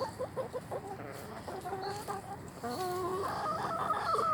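Chickens in a coop cluck and murmur in irregular short bursts, some close and some farther back, against a soft, steady outdoor background with no talking.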